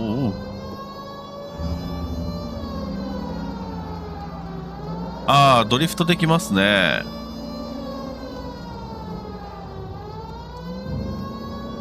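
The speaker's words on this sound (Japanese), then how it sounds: "止まれお前ら、止まれ止まれ、" A police car siren wails and sweeps past in the L.A. Noire video game, rising loudly for a couple of seconds over a steady engine drone while someone talks casually throughout.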